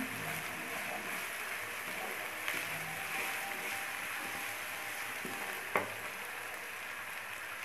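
Ginger and garlic paste frying in a pan for a chicken and cauliflower curry, giving a faint, steady sizzle with a couple of soft clinks from stirring. No one speaks.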